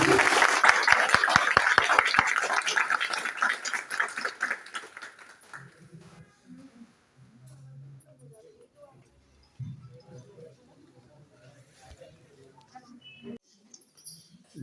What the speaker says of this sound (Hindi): सब लोग एक बार जोर से तालियां बजा दीजिए